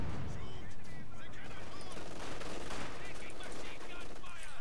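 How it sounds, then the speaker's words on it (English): Light machine gun in a video game firing sustained, dense bursts of rapid shots, loud and continuous, mixed with other battlefield gunfire throughout. "LMG, sustained fire on these conscripts behind the sandbag fighting position."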